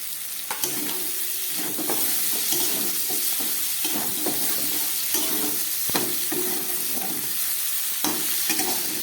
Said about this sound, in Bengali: এইবারে এখানে দিয়ে দিচ্ছি এই ভেজে রাখা ফুলকপিগুলোকে